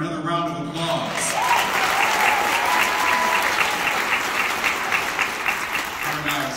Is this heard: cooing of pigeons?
no